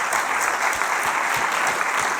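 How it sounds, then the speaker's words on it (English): A conference audience gives a keynote speaker a round of applause, a dense, even wash of many hands clapping throughout. "Another round of applause"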